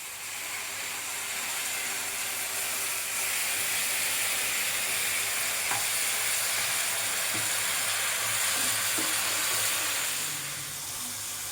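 Water poured into hot oil in a kadai while cooking Bengali-style spiced green peas, giving a steady broadband sizzle and hiss that holds throughout, close and continuous with a few small crackles.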